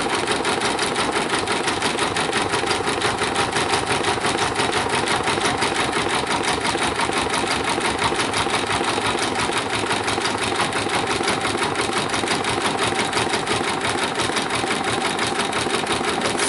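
Embroidery machine stitching a rain jacket hood, a steady rapid mechanical whir and clatter running continuously and evenly throughout at close range, with no talking.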